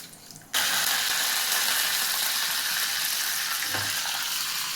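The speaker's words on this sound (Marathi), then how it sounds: "आता आपण तडका तयार करूया खांडवीवर देण्यासाठी." Mustard seeds hit hot oil for a khandvi tempering, breaking into a sudden loud, steady sizzle that crackles on close by after a brief quiet start.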